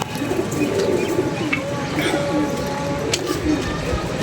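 Pigeons coo softly and continuously from a loft of eight or nine birds, a low rolling murmur beneath nearby talking voices.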